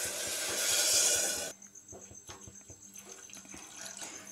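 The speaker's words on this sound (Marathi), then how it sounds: "आता यामध्ये आपल्याला पाणी घालून घ्यायचं" Water pours into a cooking pot for khandeshi masala khichadi, a loud close rushing splash for about a second and a half that stops abruptly, leaving faint clinks and bubbling.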